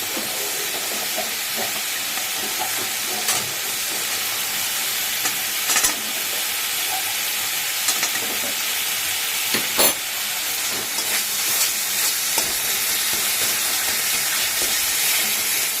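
Oil sizzling steadily in a pan as salt, turmeric and cumin are stirred and fried for a pabda fish curry, a constant broad hiss broken by occasional scraping clicks of the spatula.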